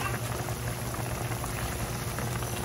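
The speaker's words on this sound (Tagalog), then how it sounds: "Bukal na siya, no?" Pot of soup at a steady rolling boil, a dense continuous bubbling hiss that stays loud and close throughout with no voices.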